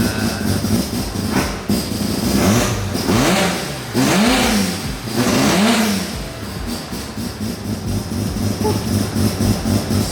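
Car with a rotary engine revving up and down in several rising and falling sweeps, loud and close, with a steady idle droning between the revs and no talking.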